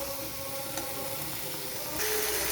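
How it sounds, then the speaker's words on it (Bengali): Vegetables are stirred with fried spices in a pan for a vegetarian dish, giving a steady, close frying hiss that grows slightly louder toward the end. No voices are heard. "এইভাবে আমি আরও কিছুক্ষণ ভেজে রাখা মশলার সাথে নেড়ে চেড়ে নেব।"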